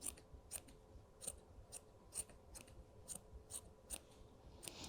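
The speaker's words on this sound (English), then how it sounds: "So we're going to go in and just where it doesn't look quite as neat as we'd like it, trim around so we can make a nice round pom-pom." Small scissors trim a crocheted yarn pom-pom, giving a quiet, steady series of crisp snips about every half second with nobody talking.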